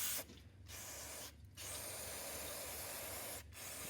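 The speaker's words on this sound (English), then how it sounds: "you can get it and spray all along the outside" Carburetor cleaner sprays along the outside of a small engine carburetor in three close, hissing bursts separated by brief pauses.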